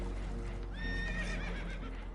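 Spooked horses aboard a boat in the video game Red Dead Redemption 2, a nervous whinny rising and falling over a constant low rumble of water and engine noise.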